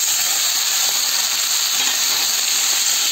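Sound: tomatoes and coriander powder frying in pan with bitter gourd

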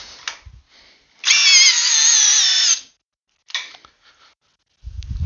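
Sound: HyperTough 12V brushless drill testing torque in drill mode

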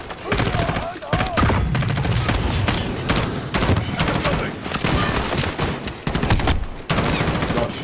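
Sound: gunfire in Call of Duty Modern Warfare video game

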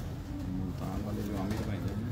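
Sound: pigeons cooing

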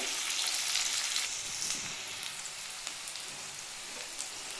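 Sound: onions frying in oil in a pan

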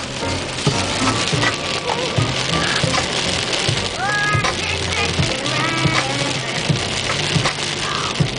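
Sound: rain falling

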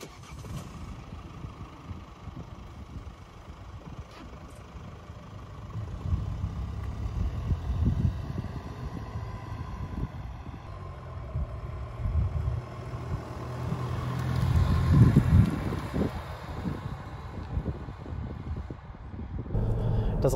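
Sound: Mercedes-Benz Vito Tourer 119 CDI 4x4 van driving on road

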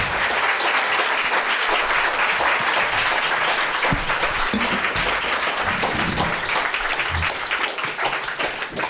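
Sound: audience applause welcoming comedian Jeremy Hardy

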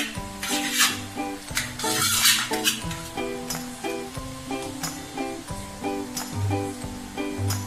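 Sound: stirring ghee in a pot for chicken dum biryani

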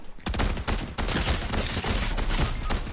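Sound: Cobra DMR gunfire in a video game

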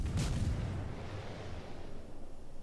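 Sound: naval gunfire firing shells in World of Warships video game

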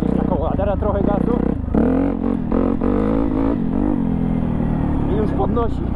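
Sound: Honda CRF dirt bike engine revving for a wheelie

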